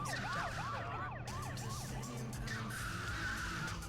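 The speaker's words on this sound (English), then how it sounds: "Cop car." A wailing police car siren in GTA 2 sweeps up and down repeatedly over steady engine and road noise, loud and close, fading into a steadier tone near the end.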